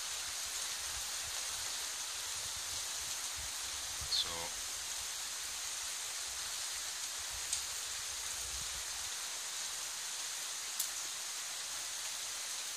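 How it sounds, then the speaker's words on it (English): Steady heavy rain from Hurricane Matthew hisses continuously at Disney's Animal Kingdom amid strong gusts, with a few faint brief knocks and a short whistle-like sweep partway through. "just apart from this heavy rain"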